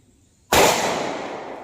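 A single sharp 9mm gunshot from a Ruger LC9S with a 3.1-inch barrel firing a 115-grain Nosler ASP round, a loud abrupt crack after a moment of quiet, followed by a long ringing decay outdoors.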